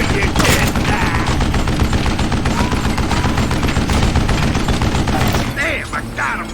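Rapid gunfire from the Western shooter game Call of Juarez Gunslinger, loud continuous bursts of shots rattling for several seconds before easing off, with a brief voice near the end.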